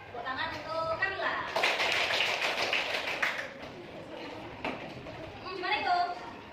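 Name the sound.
class applauding for a student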